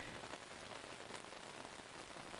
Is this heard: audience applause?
no